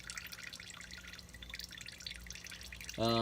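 Motor oil drips steadily from an overland vehicle parked with its front raised during an oil change, a faint continuous trickle and patter close by, ending in a brief sharper splash or clink at the very end.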